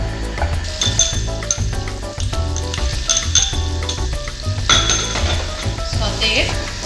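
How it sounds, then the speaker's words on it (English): Butter melting in a hot pan while lobster thermidor is prepared: a steady, close sizzle layered with frequent metallic clinks and scrapes of utensils against the pan. "We require butter. Wait until the butter gets melted and the pan is hot."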